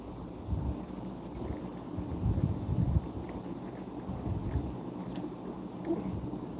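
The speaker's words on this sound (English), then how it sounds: "It's getting windy." Gusty wind buffets the microphone in low rumbling surges, with faint water or boat sounds underneath and no talking.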